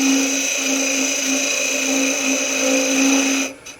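Wood lathe spinning steadily while a tenon is turned on a small gnome ornament, a continuous high whine with harmonic tones that drops away abruptly near the end, close and moderately loud with no talk.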